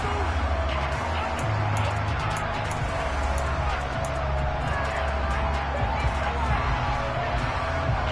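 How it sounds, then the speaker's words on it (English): Stadium crowd noise from a Madden football video game, a steady dense roar of shouting and murmuring spectators that runs continuously at a high level throughout. "Plenty of shouts from this crowd as they watch the replay."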